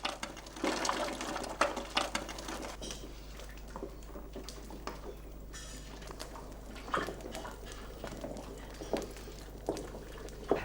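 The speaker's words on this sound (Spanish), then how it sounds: "Después de hervir 5 o 6 horas, y mermada el aguamiel hasta su tercera parte por la evaporación del agua" Aguamiel, honey water, boils down for hours in a pot in traditional cooking, giving a steady low simmer with soft bubbling, popping and patter, and occasional light clinks, quiet and close with no talking.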